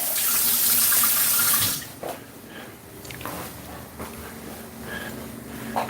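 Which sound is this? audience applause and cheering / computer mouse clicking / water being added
water being added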